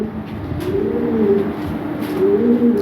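A breeding pair of pigeons coos close by, with low rolling calls repeating throughout against a faint background hiss.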